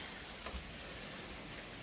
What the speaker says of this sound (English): Foggy day welcome rain.